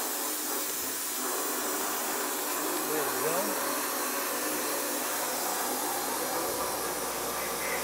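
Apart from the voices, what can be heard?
vacuum suction running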